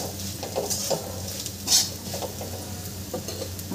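Spoon stirring sugar into sabudana khichdi in a pan, soft scraping strokes over a faint steady sizzle, with one brief brighter clink midway; close and fairly quiet, no talking.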